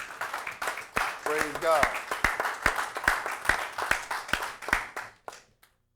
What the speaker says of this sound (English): we give another round of applause to those sisters